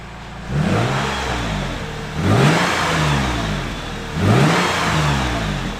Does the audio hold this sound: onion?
no